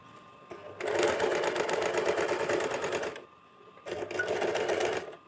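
A sewing machine stitching net fabric with a lining, running in two bursts of rapid, steady mechanical clatter, close and clear, separated by a brief pause.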